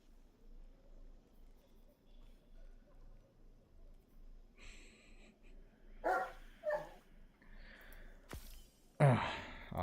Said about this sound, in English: Oh my gosh, the dog. Oh, the poor puppers.